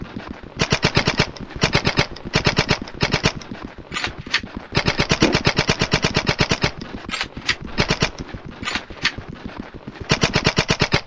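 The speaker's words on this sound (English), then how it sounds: "Hey, stop shooting your gun at me." Sustained automatic gunfire from the video game Blood 'n' Bacon: dense, rapid rattling bursts that run almost continuously, with brief gaps between volleys. It is loud and close, with no talk over it.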